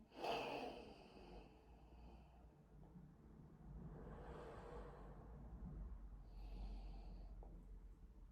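Someone takes slow, deep breaths through cupped hands holding peppermint oil over the nose and mouth: a sharp inhale at the start, then quieter, drawn-out breaths, faint and close.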